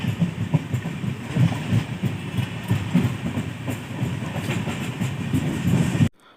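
Onboard a Kongu Superfast Express rake running near Katpadi Junction, a steady rumble with rhythmic clickety-clack of wheels over rail joints, loud and continuous before cutting off abruptly.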